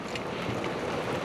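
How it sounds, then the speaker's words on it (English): Steady broadband rain noise from outside, heard from inside a parked Hyundai Kona EV with the car switched on and heating; a continuous dense hiss and patter with no talk. "as you can hear, there's a lot of ambient noise coming in from the rain outside"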